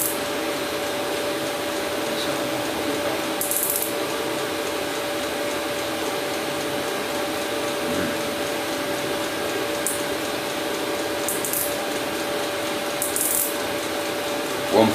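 A metal shaper works a small steel stretcher for a 5-inch gauge locomotive tender, a steady mechanical drone with rubbing, scraping strokes and a few brief sharp hissing bursts, close by in a workshop.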